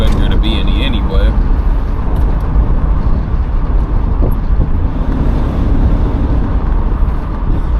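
A 1975 Buick LeSabre cruises straight down the road, its engine and tire roar forming a steady, loud wash with wind buffeting throughout and no break in the noise.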